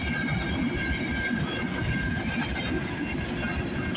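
A CN freight train rolls past on a snowy morning, its wheels making a steady loud rumble and clatter with a faint high squeal running over it.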